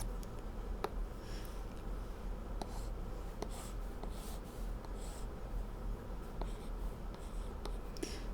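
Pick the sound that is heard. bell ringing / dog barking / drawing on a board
drawing on a board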